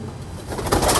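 A golden pigeon gives a brief, low cooing call close by, a soft throaty burst that swells toward its end.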